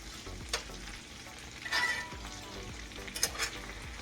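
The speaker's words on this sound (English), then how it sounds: "Now I'm just going to let them fry until the bottom layer gets a nice brown." Potatoes coated in grease fry in a pan with a steady sizzle, joined by a few louder crackling bursts and light scraping from a spoon, with no talking.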